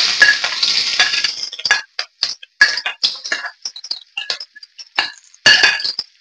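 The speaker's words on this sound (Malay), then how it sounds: "Kita masukkan bawang putih halia dengan cili padi." Garlic, ginger and bird's eye chili go into a hot, reused wok with a sizzling hiss, broken up by frequent metallic clinks of a utensil against the pan in an irregular rhythm.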